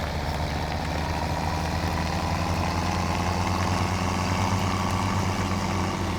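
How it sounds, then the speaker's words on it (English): A tractor in Farming Simulator 17 drives along, its loud engine droning steadily under a heavy continuous rumble of tire noise, constant and close throughout. "Now, the engine note is pretty loud, but can you hear how loud the tire sound is?"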